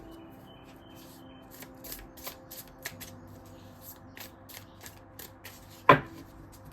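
Tarot cards are shuffled close up in a run of soft riffling flicks and slides, ending in one sharp louder snap of the deck, with no talk.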